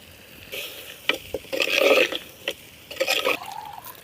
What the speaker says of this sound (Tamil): நான் தண்ணி ஊற்றுறேன்